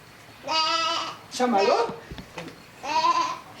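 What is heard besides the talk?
sheep bleating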